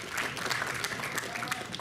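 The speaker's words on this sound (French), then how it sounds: "On peut encore l'applaudir." Steady applause from an audience, a dense wash of clapping that holds evenly for a couple of seconds.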